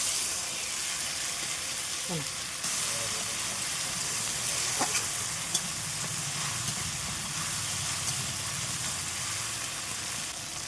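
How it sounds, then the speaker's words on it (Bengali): Ginger, cumin and chili spice paste frying in a pan while being stirred, a soft continuous sizzle and hiss with occasional faint scrapes, fairly quiet and steady. "জিরে বাটা, ভালোভাবে মশলাটা নাড়াচাড়া করে নেব"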